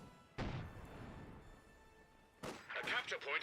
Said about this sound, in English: I think that was a destroy cover charge